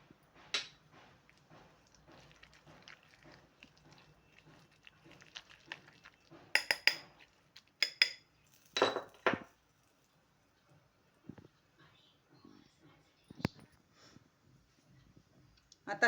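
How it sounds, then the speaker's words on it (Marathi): A spoon stirs pakora batter with carom seeds in a bowl, made with taro leaves and sweet corn, giving quiet scattered clinks and scrapes with a few louder bursts and long near-silent gaps. "आता आपल्या ह्या पिठामध्ये मी 1 छोटा चमचा ओवा मिक्स करून घेते."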